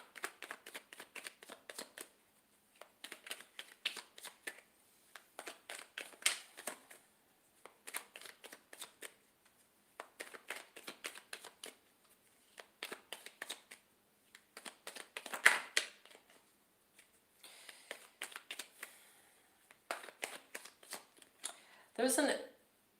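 Tarot cards being shuffled in repeated bursts of crisp riffling and flicking, with brief pauses between rounds, at close range during a live psychic reading.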